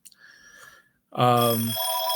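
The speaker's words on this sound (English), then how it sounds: "So we're getting a phone call, but I'm not going to answer that." A telephone rings with an incoming call, a loud electronic ringing burst with a steady buzzing tone that follows a moment of quiet; it sounds close and stands alone.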